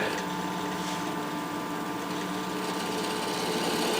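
A wood lathe spins a vase or vessel blank while a bowl gouge cuts. The motor gives a constant droning whine with a faint rough cutting hiss that holds evenly throughout, without pauses and with no talking.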